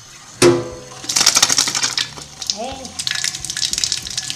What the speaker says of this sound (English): We're going to put in filtered water into our stock pot